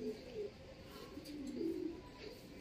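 Racing pigeons coo softly during daily training flights at a loft in Pagbilao, Quezon, with low throaty calls repeating over a steady outdoor background.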